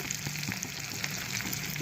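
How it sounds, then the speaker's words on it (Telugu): Spices for a dal tempering fry in hot oil: mustard seeds, cumin, dried red chillies, garlic and asafoetida, giving a steady, dense sizzle with faint crackles. The frying continues without a break, close by, and no one speaks. "ఇప్పుడు నేను పోపు కూడా వేసేసుకుంటాను."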